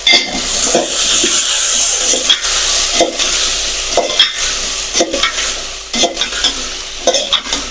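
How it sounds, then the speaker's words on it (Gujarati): Brinjal vegetable sizzling as it fries in a pan, stirred with a utensil in repeated scraping strokes about once a second over a steady close frying hiss. "હવે આપણે તેને સારી રીતે હલાવી અને આપણે તેને સીજવા દઈશું"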